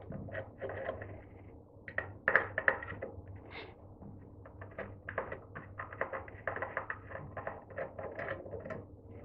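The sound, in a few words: removing screws holding a vacuum motor's carbon brush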